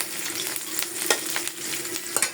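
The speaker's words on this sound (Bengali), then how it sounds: "তার জন্য দিয়ে দিলাম কড়াইতে তেল আর পেঁয়াজ, রসুন, কাঁচামরিচ" Onion, garlic and green chilli crackle in hot oil in a wok, a loud close sizzle broken by frequent sharp spatters and stirring scrapes, with no talking.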